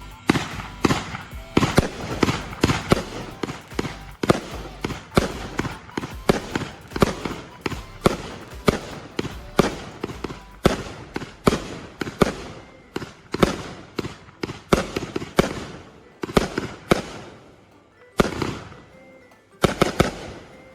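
A Wild Beast fireworks cake from Pyro Yes goes off in a long, rapid barrage of loud cracking bursts, shots firing in quick irregular clusters with brief gaps, tapering to a few scattered final booms.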